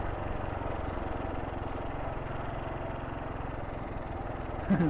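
Engine of a sand riding vehicle moving over rocks, a steady droning mid-pitched hum that holds evenly throughout with a brief louder bump at the very end.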